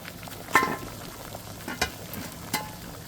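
Water bubbles and simmers in a canning water bath between strawberry jam batches, a soft steady seething broken by a few sharper bursts and clinks.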